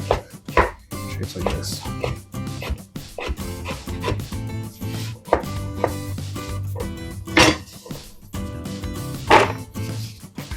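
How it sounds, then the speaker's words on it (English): A knife chops sausages into bite-sized pieces on a board, making quick repeated close taps in an uneven rhythm, with a voice speaking briefly and a dog barking now and then. "just cut it into little bite-sized pieces"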